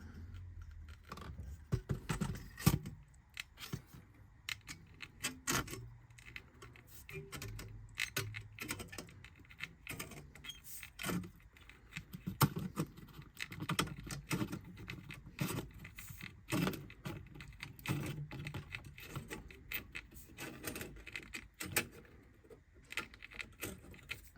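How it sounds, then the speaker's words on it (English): Metal snips cutting strips from a bit of scrap metal for a scratch-built garden railway water tower, a steady run of close, dense clicks and snipping crunches with no talk. "So I'm going to cut some strips off of this, just this bit of scrap metal I had lying around."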